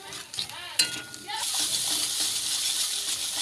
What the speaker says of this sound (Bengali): এখন আমি বাদামটা দিয়ে দিচ্ছি।